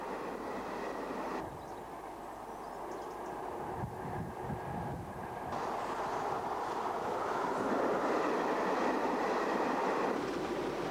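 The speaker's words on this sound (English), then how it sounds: "it was decided that a new high-speed diesel train would be needed." An Inter-City 125 high-speed diesel train rolls along the rails with a steady roar that swells louder toward the end, heard alone with no talk over it.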